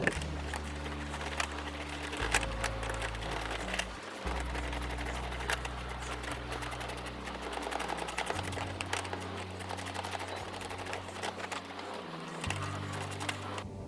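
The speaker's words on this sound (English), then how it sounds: "Using a ratcheting wrench." Ratcheting wrench tightening a stop nut down a stud on a cargo trailer solar panel mount, giving rapid close clicking in short bursts with pauses between strokes, fairly faint and with no talking.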